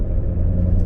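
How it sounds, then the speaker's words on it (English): The big V8 of a Chevrolet Corvette C7 Z06 gives a steady, heavy low rumble, loud and close, with no voices over it. "A massive displacement engine up front, a gnarly sounding V8 coming out of the back,"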